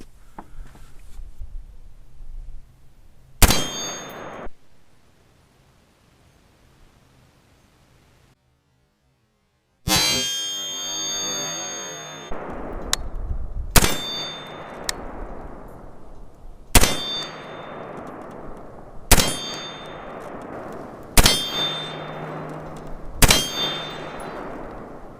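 Gunshots fired at a target while testing a Field Sport red dot sight: sharp, loud single cracks with ringing decays, one early shot and then a run of evenly spaced shots after a pause, with outdoor background hiss between.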